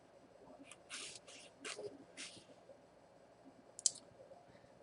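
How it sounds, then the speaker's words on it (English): Soft, faint computer mouse clicks come while working in tax-filing software: a scattered handful of light taps over a quiet background, ending with one slightly sharper click. "To save the changes, I click OK."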